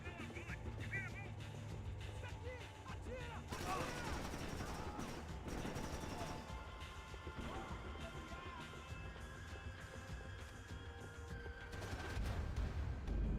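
Rapid gunfire from a roleplay video game, a dense, continuous barrage of shots and crashes running the whole time, loud and busy, with a voice shouting over parts of it.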